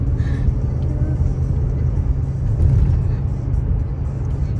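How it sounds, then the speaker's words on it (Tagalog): Vehicles roll past one after another on a road during the evening rush home, a dense, continuous low engine rumble and tyre roar that swells midway, close and loud without pause. "Mga sasakyan, sunod-sunod na."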